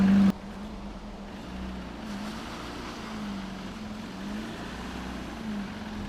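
An off-road vehicle engine labours to pick up speed on rough northern ground, a steady low drone with faint wind noise and no voices, after a sharp bump at the start.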